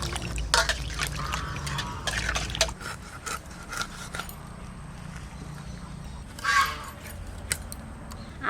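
Raw hilsa fish pieces are rinsed in water with splashing, sloshing and dripping, in irregular bursts of handling close by; no one speaks.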